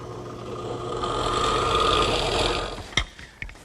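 A 1/2 inch Forstner bit bores a spindle hole in wood, a steady low whirring drone that rises slightly and then winds down, ending in two sharp knocks close by.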